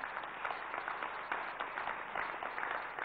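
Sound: audience applause for Luca Filipponi

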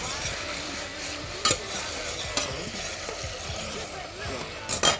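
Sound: chicken cooking in clarified butter

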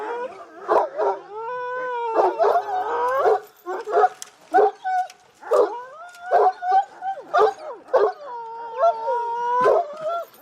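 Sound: shepherd dogs barking and howling

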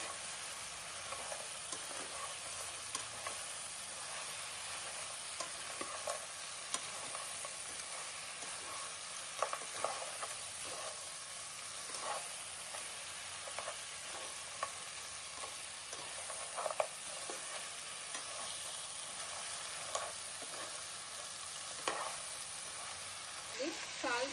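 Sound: stirring crab curry with coriander powder in a pan

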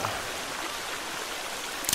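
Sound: flowing stream water in The Forest video game

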